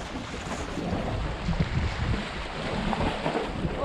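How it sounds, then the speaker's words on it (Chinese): A jet ski runs on open water during a fishing outing, giving a steady, fairly loud broadband rumble and wash that continues without a break for the whole stretch, with no voices. "水上摩托车"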